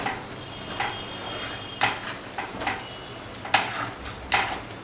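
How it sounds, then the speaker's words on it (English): Tomato spaghetti stirred in a pan with salt and black pepper, a spoon scraping and clinking in several separate strokes over a soft, steady sizzle, close and with no talking. "Mix it well."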